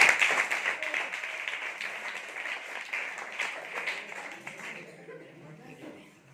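A school class applauds a correct quiz answer, with dense, loud clapping from many hands that thins and fades away over the last second or so, and voices mixed in.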